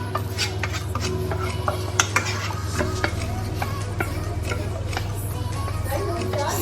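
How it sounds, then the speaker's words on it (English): A spoon scrapes and stirs through a pot of minced meat spaghetti sauce, with soft scooping clinks and a low steady sizzle beneath, close and continuous with no talking. "So I'm scooping everything, I'm leaving nothing unscooped."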